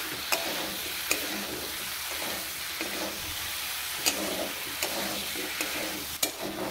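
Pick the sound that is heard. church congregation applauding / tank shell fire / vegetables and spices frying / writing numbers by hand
vegetables and spices frying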